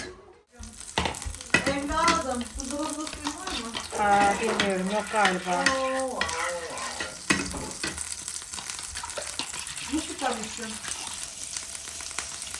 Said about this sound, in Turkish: Tereyağımız güzel bir erisin. Sonra yumurtamızı atalım içine.